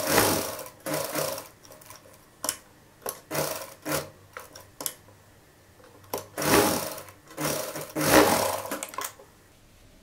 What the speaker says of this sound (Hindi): हम यहाँ पर सिलाई लगा लेंगे।